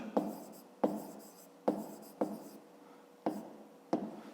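Pen writing by hand during a fifth-grade math exercise, a series of short scratchy strokes repeating roughly every half second to second, close and fairly quiet, with no talking.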